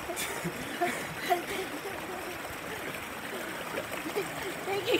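River water in Mariveles, Bataan, Philippines flows and trickles with a steady, soft rush and small splashes, mid-distance, while voices murmur faintly over it.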